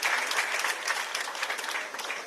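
A crowd at a government launch of solar-powered plants for hospitals in Sierra Leone applauds the Honorable Minister: continuous, thick clapping from many people, moderately loud and sustained without talk.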